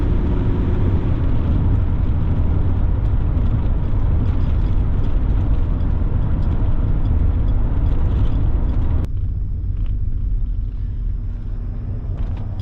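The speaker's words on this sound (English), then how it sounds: "Stab the throttle and see how the kick down works" A 1979 Cadillac Deville Paris flower car accelerates after a throttle kickdown, producing a deep, sustained engine rumble inside the cabin that drops abruptly to a quieter cruise near the end.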